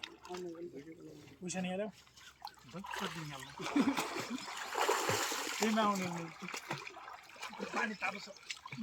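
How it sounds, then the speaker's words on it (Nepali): Cold stream water splashing and sloshing as people bathe, with voices talking and calling out over the splashes throughout. "अब चिसो पानीमा मस्त नुहाउँदै"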